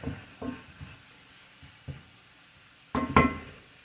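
Chicken searing in a skillet, a soft sizzle with scattered bumps and stirring, followed near the end by two louder scraping clatters of pan handling.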